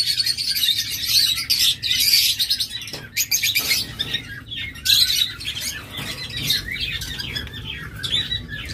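A pair of pet lovebirds or budgerigars in a shop chirp and squawk in rapid, overlapping bursts, close and lively, with short pauses between flurries.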